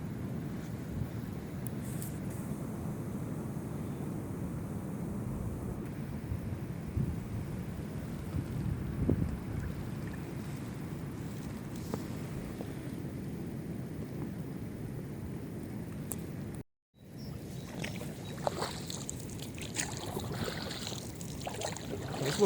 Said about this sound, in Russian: Деревья от ветра шумят.